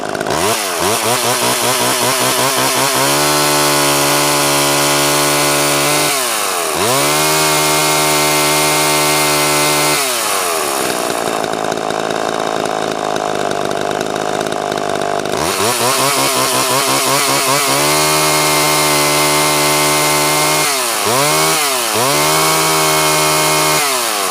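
A Homelite chainsaw engine runs loud and close, revving up in several bursts and dropping back to a steady, throbbing idle between them, with no one talking.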